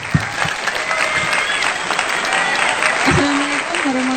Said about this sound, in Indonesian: Mana tepuk tangannya buat kelompok 3.